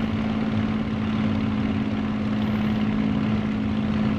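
A Spitfire Mk IXc propeller engine in the MSFS2020 flight simulator, holding a steady, loud, droning hum with a constant low tone and no breaks.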